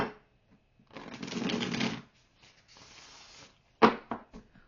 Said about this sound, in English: Switching decks, because this is what I'm feeling.